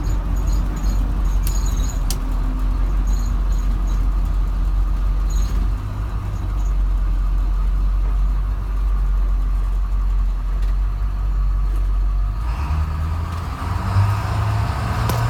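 Truck engine climbing a slight incline under throttle, a steady low droning rumble that holds throughout and shifts slightly in tone near the end.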